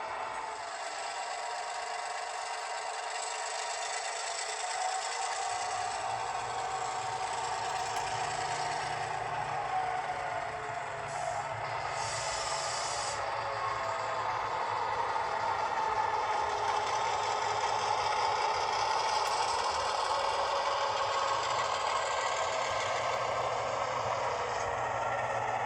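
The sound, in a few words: Atlas MP15 model locomotive running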